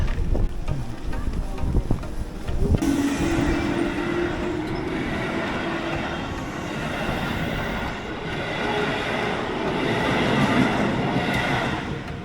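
A train rumbles past a railroad crossing in Osaka for several seconds, wheels clattering and squealing steadily on the rails, with wind noise and no clear talking.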